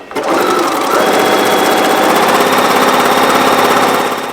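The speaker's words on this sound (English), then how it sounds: "You also want to sew around the edge of" A sewing machine runs steadily, stitching around the edge of a fabric rectangle for a basket, a loud, fast, continuous mechanical whir close by with no pauses or voices.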